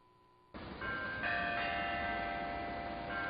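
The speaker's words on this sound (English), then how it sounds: "the sounds of the bells attracted my attention" Bells begin ringing after a brief quiet moment, their clanging tones building and sustaining loudly with overlapping, resonant peals.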